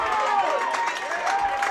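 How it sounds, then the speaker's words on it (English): A high school football crowd at a Coatesville game cheers steadily, a dense, continuous roar of voices and shouts lasting throughout at a fairly loud level. "The Coatesville crowd is really going crazy"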